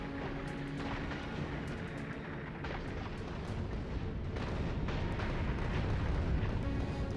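Rapid, overlapping explosions from rocket towers blasting enemies in the video game Factorio, a dense, continuous rumbling barrage with sharp cracks that stays loud and builds slightly toward the end.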